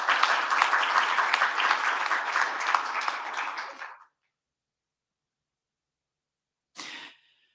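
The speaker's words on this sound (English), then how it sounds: "Please give her an applause." Audience applause for a panelist at a commemoration event marking 80 years since the liberation of Auschwitz: steady, dense clapping for about four seconds that fades out, then silence and a brief short burst of noise near the end.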